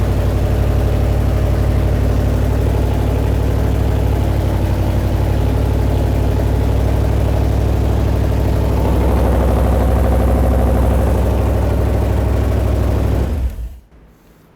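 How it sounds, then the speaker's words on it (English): A car engine idles steadily with a low, even rumble and hum, close up, before cutting out abruptly near the end. "It's idling now by itself."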